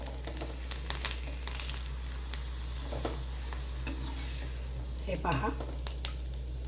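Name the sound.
sabudana papad frying and puffing in oil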